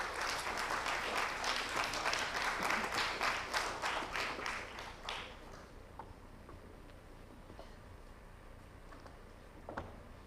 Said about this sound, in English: Can we once again have a great round of applause for Mr. Pradeep Burman.